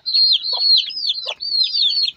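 Native country chicken chicks let out a quick run of high, chirping clucks, close and clear with almost no background noise.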